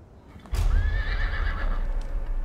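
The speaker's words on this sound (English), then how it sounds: "Seeing those wild horses" Wild horses in a canyon give a loud, nearby whinny with a wavering, drawn-out pitch over low rumbling hoof thuds and clip-clop.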